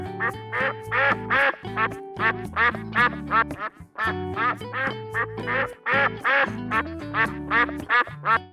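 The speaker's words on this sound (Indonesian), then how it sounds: "Bebek." A duck quacks loudly and repeatedly in close, rapid bursts of nasal calls, with brief pauses between the runs and no talking.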